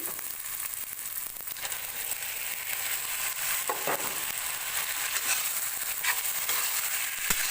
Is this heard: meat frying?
yes